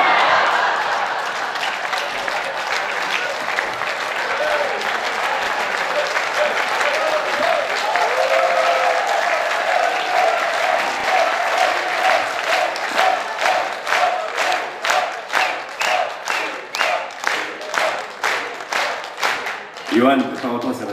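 A festival-evening audience applauds at length, dense clapping that swells, then breaks into rhythmic unison claps growing louder toward the end, with some voices in the crowd.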